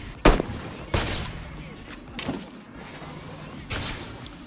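Gunfire in the PUBG Mobile battle royale game, several separate sharp shots spaced a second or so apart, moderately loud against quiet game background.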